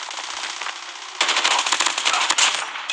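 A hostile sentry gun in a first-person shooter fires long bursts of rapid automatic shots, loud and close, with the rattle growing sharper and heavier partway through.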